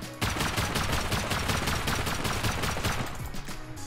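Rapid semi-automatic rifle fire in the survival game Rust, a fast, evenly spaced string of loud, close shots running almost without pause for several seconds, with no talking.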